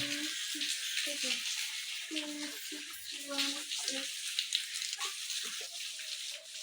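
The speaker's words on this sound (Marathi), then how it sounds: "छानपैकी बरसतोय" Heavy monsoon rain pours down in rural Maharashtra, a dense steady hiss of falling water throughout, while a voice talks over it intermittently.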